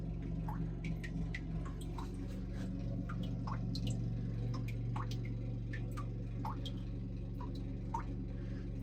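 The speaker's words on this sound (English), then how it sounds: "there's a lot of water coming through this face." Water drips and seeps through a quartz-veined rock face in a flooded hand-dug tunnel, scattered irregular drips plinking near and far over a constant low trickling hum, with no voices.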